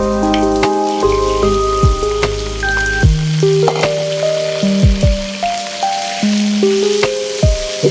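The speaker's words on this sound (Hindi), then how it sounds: "ये फ्राई हो गया, तो अब मैं इसमें डालती हूँ चिकन।" Chicken fries in a pan for a chicken yakhni white pulao, giving a steady crackling sizzle throughout, with clinks and a tonal hum layered over it and no voices.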